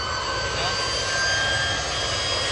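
A jet engine strapped to the mirror of a Daihatsu car, running as a steady, loud roar with a high whine across the whole stretch, a continuous blast without a break.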